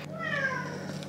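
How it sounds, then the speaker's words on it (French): A house cat meows once, a drawn-out, fairly faint mew that rises and falls, heard alone against quiet room background. "vous risquez de l'entendre miauler, j'étais obligée de le mettre dehors"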